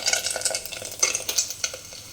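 Chili and curry leaves sizzling and frying in a pan for a leftover roti snack, with steady crackling spatter and a few stirring scrapes, close and fairly loud, no voices.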